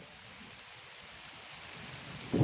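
Steady rain hisses throughout at an outdoor goat fair, a soft continuous wash that grows slightly louder, ending with a brief sharper burst of noise.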